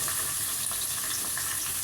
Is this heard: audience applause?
no